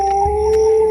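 A jackal howls near an old graveyard at night, giving a single short, steady, tonal wail that holds its pitch for about a second, fairly loud and alone.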